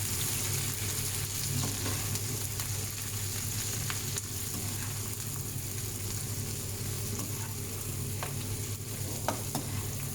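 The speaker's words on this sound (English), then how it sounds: "I like to fry these onions for about 5 to 10 minutes until they turn nice and golden." Onions frying in a pan with curry leaves, pandan leaves and garlic, giving a steady, dense sizzle that is close and continuous, with occasional faint stirring taps and no talk.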